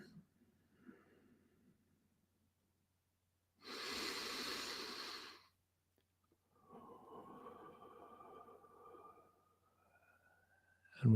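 A slow, deep breath drawn in during a guided tree meditation, one long airy inhale heard close and alone after a brief faint murmur, followed by a softer extended exhale with a faint tone running beneath it.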